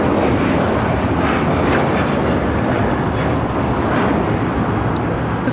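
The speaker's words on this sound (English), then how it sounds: "This is Alaska Airlines 1025 taking off to Everett, Payne Field on the 737-800." An Alaska Airlines Boeing 737-800 takes off at LAX, a loud, steady jet roar with broadband rumble that stays constant and close throughout, with no voices.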